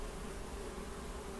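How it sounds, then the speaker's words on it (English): Honeybees buzz on a beehive frame, a steady, low, continuous hum with no pauses, faint and close. "they're just like 1 or 2 little bees in there doing their work"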